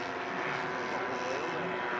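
Propeller aircraft at the Woodvale air show flying past, a steady droning engine hum held for a couple of seconds at moderate distance, with no talk over it.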